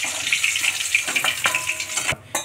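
Hilsa fish pieces frying in mustard oil in a pan, a close, loud crackling sizzle with bubbling pops and clicks, ending in a short break.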